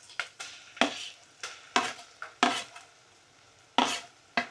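A spoon scrapes and stirs ground masala paste into sautéed onions in a pan, giving a string of soft, irregular scraping strokes over a faint sizzle, close and fairly quiet.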